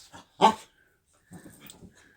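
A pet dog gives a short whimper, then a single sharp bark, followed by a pause and a series of softer whines, all close and alone.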